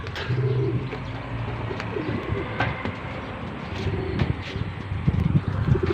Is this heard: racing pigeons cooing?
yes